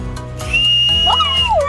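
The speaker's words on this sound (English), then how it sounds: "It's a Frank whistle." A toy Frank whistle is blown in a single sustained, loud, piercing tone that holds steady, then slides downward and wavers near the end.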